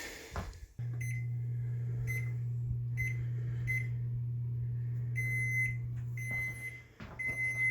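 An oven control panel gives a series of short, evenly spaced electronic beeps while the temperature is set to 350, over a steady low hum from the appliance.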